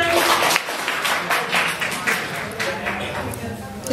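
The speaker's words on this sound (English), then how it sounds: "If you can hear me, clap 3 times." A room of students at a meeting claps together, producing a burst of sharp, fairly close claps over a murmur of crowd noise.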